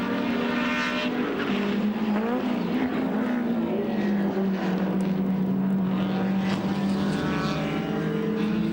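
BMW touring cars race at the 1987 Bathurst 1000, a continuous loud engine drone with pitch rising and falling as cars pass close by, steady throughout.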